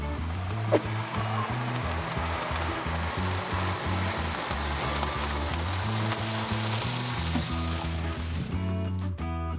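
Water poured into a hot pot of searing venison pieces, a steady loud sizzle and frying hiss that runs for several seconds over low rhythmic background music, with no talking.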